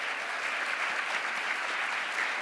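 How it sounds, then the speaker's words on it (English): A school audience applauds a guest speaker, a dense, even wash of many hands clapping together, loud and continuous throughout with no voices over it. "Let's give her a round of applause."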